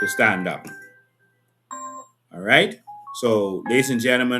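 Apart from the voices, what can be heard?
chime of an alarm company call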